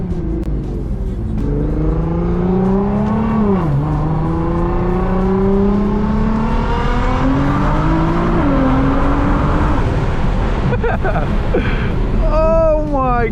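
A Nissan GT-R driven hard on the road home, its engine roaring steadily as revs climb through each gear, with a short dip at a shift and rising whine, loud and close from inside the cabin.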